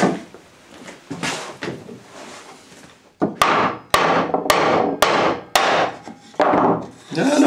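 Several sharp hammer blows strike wood in a quick series, close and loud, after a stretch of softer rubbing and handling noises.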